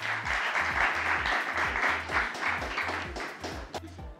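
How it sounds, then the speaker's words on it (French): Audience applause at a French-language quiz show finale, moderate steady clapping layered over a rhythmic music beat, tapering off at the end. "On applaudit Rou Jerry,"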